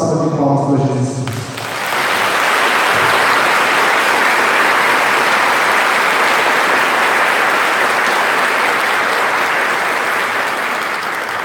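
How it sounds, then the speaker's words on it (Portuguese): A Mass congregation applauds Jesus on Mother's Day, a loud, dense, sustained wash of clapping from a large crowd that begins after a brief voice and continues steadily to the end. "eu quero pedir uma linda salva de palmas para Jesus"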